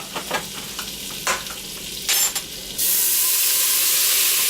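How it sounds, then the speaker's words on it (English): Beef broth poured into a hot pot roast pan, a few clinks and scrapes giving way to a sudden loud, steady sizzle and hiss of liquid hitting the searing surface. "I'm going to have to put a little bit of beef broth in there to help deglaze"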